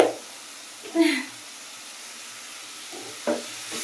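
Curry with cumin powder sautés in a pan, giving a faint, steady sizzle and hiss broken by two brief stirring scrapes, close and quiet.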